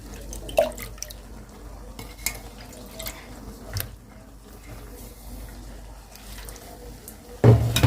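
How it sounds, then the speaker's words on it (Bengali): Water splashes and drips into a metal pot to melt chopped jaggery, with occasional clinks of cookware. A louder splash comes near the end. "হালকা একটু পানিটা দিয়ে আর কি নাড়া দিলে গুড়টা আস্তে আস্তে গলে যাবে"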